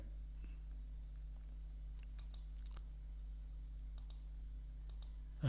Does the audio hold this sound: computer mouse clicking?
yes